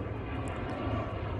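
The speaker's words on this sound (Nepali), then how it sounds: "प्लेन उडिरहेको छ" An airplane passes overhead near Balkumari in Nepal, a steady low engine rumble with a faint airy roar, heard alone and fairly distant for a brief moment.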